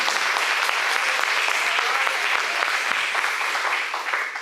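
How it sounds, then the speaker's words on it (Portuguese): A church congregation at a family worship service claps in a continuous, even burst of applause, loud and close, which eases a little near the end. "Palmas ao Senhor Jesus"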